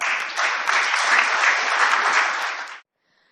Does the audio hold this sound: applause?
yes